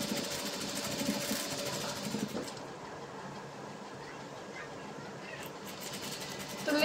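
A sewing machine stitches lace onto fabric, running slowly with a steady close mechanical whir and rattle, pausing briefly partway through.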